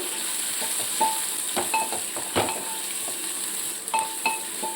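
Turmeric stirred into a simmering pan for buttermilk curry, a soft sizzle under repeated spoon scrapes and light metallic clinks against the pan, close and steady with no talking.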